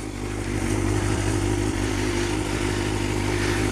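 A motorcycle engine idles close by with a steady, low rumbling throb that runs unchanged throughout, with no voices.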